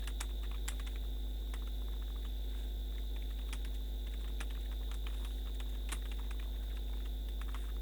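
Typing on a computer keyboard during a Microsoft Word tutorial, scattered soft key clicks at an irregular pace over a constant low electrical hum.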